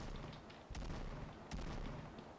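Two sharp gunshot cracks in the game Point Blank, about a second apart, over a steady rumbling background of distant game noise.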